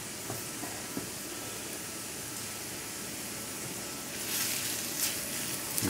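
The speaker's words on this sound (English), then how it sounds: "you saute this" A soft, steady sizzle of sautéing in a pan for crawfish étouffée, a faint hissing fry that holds evenly and swells slightly near the end, with no talking.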